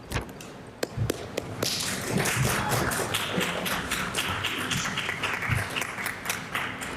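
Legislators applaud in the House of Assembly chamber with a dense, sustained wash of clapping. Sharp taps and a few low thumps, like hands on desks, cut through it throughout.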